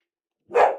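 A single sharp dog bark, close and loud, bursting out after a stretch of silence.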